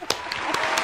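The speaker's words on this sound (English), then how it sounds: "Applause" Applause from a studio audience, a brief burst of scattered clapping with a few sharp individual claps standing out, fairly close and continuous.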